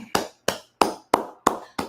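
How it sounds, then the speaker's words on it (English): A group claps in a steady, even rhythm, six sharp close claps spaced about a third of a second apart, with no talk over them. "Let's go ahead and clap it up."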